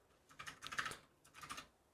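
Typing on a Razer 60% compact computer keyboard, quick clusters of key clicks in two short bursts with a brief pause between, close and fairly quiet, no voices.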